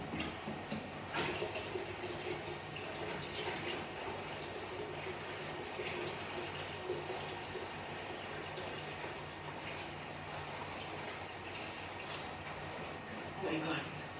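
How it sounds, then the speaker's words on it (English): Steady rushing, splashing water runs for the whole stretch as water is poured into a nano marine aquarium tank, with a brief louder gush near the start. "Next, I can straight away add the water because it's not that much heavy."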